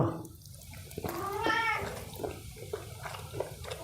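A cat gives one clear mid-length meow at moderate distance, set among faint dripping and rustling household noise in a warm kitchen.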